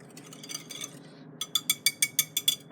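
An ice cream mixture is stirred in a bowl, the utensil clinking against the sides in a quick, regular run of sharp taps after a quieter, scraping start, close up with no talking.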